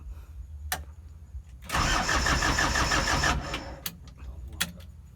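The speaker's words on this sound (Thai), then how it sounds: "มาฟังเสียงครับยังสตาร์ตติดไหมครับ" An old pickup truck engine with over a million kilometres cranks briefly, then catches and runs roughly for a couple of seconds before cutting out, with a few sharp clicks around it.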